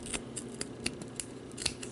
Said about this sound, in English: And we're cutting this around like this.